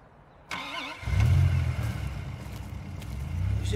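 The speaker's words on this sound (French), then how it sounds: "Je reconnais ce son de moteur, elle est presque prête." A car engine cranks briefly and catches, then settles into a steady, fairly loud idle rumble close by, with no talk over it.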